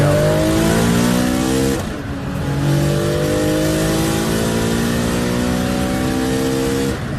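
A race car engine worth about $250,000 revs hard and loud, its pitch climbing in long sweeping pulls with a brief dip between them, filling the sound with a dense, raspy roar.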